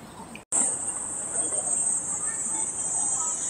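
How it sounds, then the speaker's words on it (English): A cicada's steady, high, piercing buzz runs loud and unbroken after a brief cut, over soft rain-day background noise. "I don't know if you can hear the cicada."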